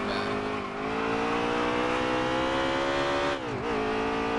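A NASCAR Cup race car engine in the NASCAR Heat 3 video game drones at high revs with a steady tone, dipping briefly twice as the pitch drops and climbs back while the car races on.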